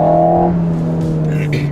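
Alpine car engine on a curvy mountain road, a steady loud droning hum with strong low harmonics, briefly joined by a higher whine before settling, with a few faint noisy bursts toward the end.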